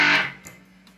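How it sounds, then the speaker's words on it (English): Electric guitar through a distortion effect, a single loud distorted strum at the start that decays quickly into a faint sustained ring, with a couple of brief softer noises later. "to distortion,"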